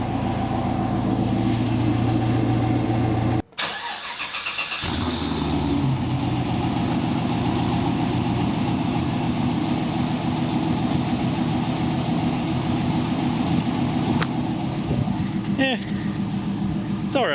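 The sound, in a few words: LT-swapped Trans Am engine idling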